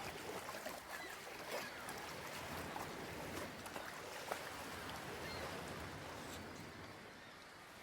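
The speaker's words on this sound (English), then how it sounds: "waves crashing round her" Waves crash and wash against rocks in a continuous, fairly faint surging roar with small splashes scattered through it, and no voices.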